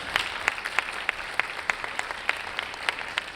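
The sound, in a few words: applause for shortlisted applicants at closing ceremony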